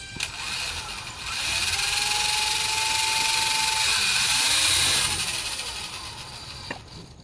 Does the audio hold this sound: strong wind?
no